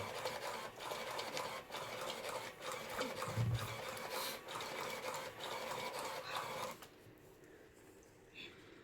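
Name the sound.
card shuffling machine running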